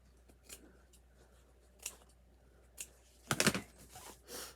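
Scissors give a few scattered snips to craft material on a tomato-cage Uncle Sam gnome decoration, with one quick cluster of close, crisp cuts near the end over a quiet background.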